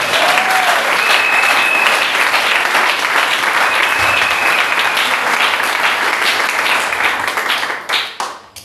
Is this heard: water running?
no